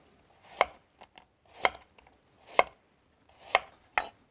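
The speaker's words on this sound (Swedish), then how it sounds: "Nu skär vi dem i tunna skivor." A knife slicing raw beetroot into thin slices on a cutting board: five crisp, evenly spaced chopping thuds with near silence between them, close and clear, no voices.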